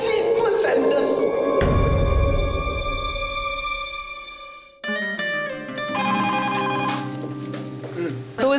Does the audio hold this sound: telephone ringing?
yes